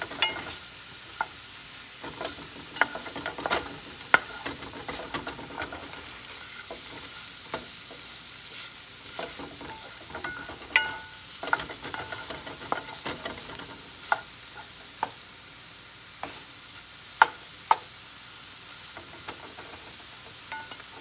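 Shrimp frying in a pan on a stove at medium heat, a continuous crackling sizzle dotted with sharp pops and spatters throughout, close and steady with no voices.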